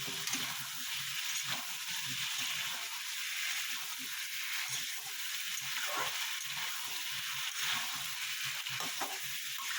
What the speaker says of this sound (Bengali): পেঁপেটা দিয়ে একটু ভালো মতন আমি কষিয়ে নেবো